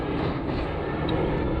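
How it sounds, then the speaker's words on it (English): An airplane passes overhead, a loud, steady broadband roar of engine noise filling the whole moment at an outdoor site. "Daggum planes."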